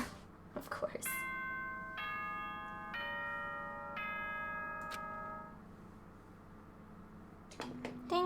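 A ding-dong announcement chime from a video game, a series of bright bell tones stepping through several notes over a few seconds.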